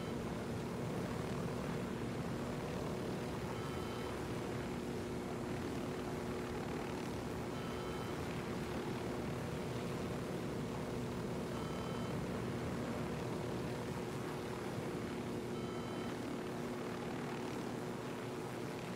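A helicopter in the video game Ghost Recon Wildlands gives off a steady, dense rotor and engine drone that holds constant and fairly close throughout, with no talk.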